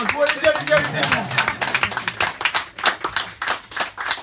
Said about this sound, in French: Allez-y, applaudissez-moi, il n'y a pas de souci.